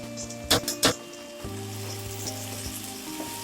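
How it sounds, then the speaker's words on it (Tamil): Steady sizzling of onions and tomatoes frying in oil in a pan, with a few sharp clatters of stirring near the start and a low hum beneath. "நல்லா வெங்காயம் வந்து நல்லா வதங்கட்டும்"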